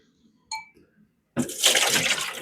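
Water drains from an oiler on a 1902 Reid engine, starting after a short metallic clink and then running as a steady, fairly loud splashing stream that continues to the end.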